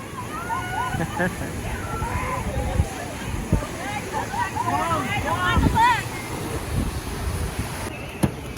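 Water sloshing and splashing as rafts float down the Shipwreck Rapids river ride at SeaWorld San Diego, with distant riders' shouts and nearby people talking over the moderate rushing water.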